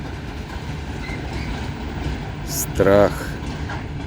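A freight train apparently carrying gravel rolls past, with a steady rumble and faint clatter. A person speaks briefly over it near the end.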